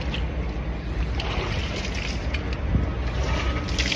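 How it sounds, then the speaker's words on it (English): Strong wind roars and buffets a microphone outdoors at minus 30 degrees, a dense continuous rush with occasional gusts and no speech. "Pretty windy out here."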